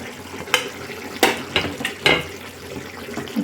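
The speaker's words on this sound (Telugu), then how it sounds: "ఇప్పుడు ఈ వేయించుకొని పక్కన పెట్టిన ఉప్పు చేపలు వేసేసుకోవాలి" Salted fish, fried earlier, dropped into a simmering brinjal and tomato curry: a few sharp splashes and clattering stirs over a steady low bubbling sizzle, close by, with no talking.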